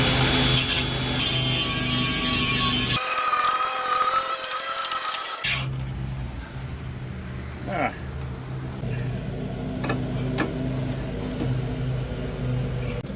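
A thicker-than-normal thrust bearing from a John Deere D130 lawn tractor front axle is ground down, with a harsh, loud grinding at the start giving way to quieter workshop scraping while a person talks.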